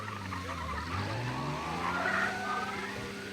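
Car in the game Mafia skidding past, engine revving with rising and falling pitch while tires squeal loudly at the midpoint before fading, heard alone without talk.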